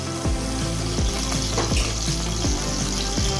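Garlic sizzling in hot refined oil in a wok, a steady close frying hiss with a few sharp spatters and faint low background tones.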